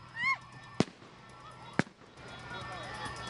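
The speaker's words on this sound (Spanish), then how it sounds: "fue una bomba de estruendo." Two sharp, loud bangs from stun grenades go off about a second apart amid a trucker protest in Bogotá, with a horn honk just before and crowd and street noise under them.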